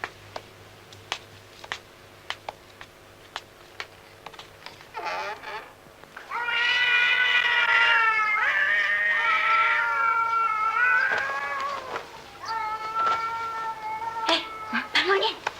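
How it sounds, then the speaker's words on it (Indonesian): Two cats fighting nearby, with loud, drawn-out yowls and caterwauling rising and falling across the second half after a quieter stretch of scattered knocks and clicks, and people talk around it. "Ada kucing berantem tuh."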